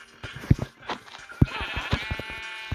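Minecraft sheep bleat in short nasal bursts, three of them spaced about a second apart, over a low steady background hum with no talking.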